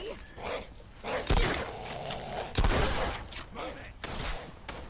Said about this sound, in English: Oh, this shotgun is amazing.